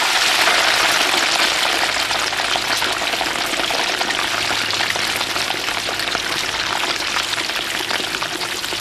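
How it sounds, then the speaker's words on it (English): Filleted, boned fish deep frying in very hot palm oil, a loud, dense sizzle and crackle that stays steady and close throughout with no talking. "McDang then lowers the boned and filleted fish into very hot palm oil."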